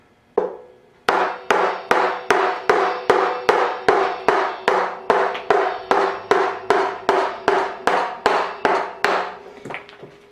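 A wooden mallet strikes a carving gouge hollowing an elm bowl, about twenty sharp, evenly spaced woody knocks in a steady rhythm, loud and close, each one ringing briefly before the next blow.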